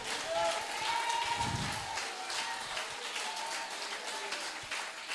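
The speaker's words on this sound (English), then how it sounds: "clap your hands for His glory" Congregation clapping during church worship, a steady broad wash of hands mixed with sustained music tones and faint voices, moderately distant.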